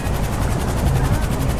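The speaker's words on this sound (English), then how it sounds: "Are they both in choppers?" Helicopter in the video game GTA V, a steady close rotor thrum and engine roar filling the whole moment with no break, loud and continuous.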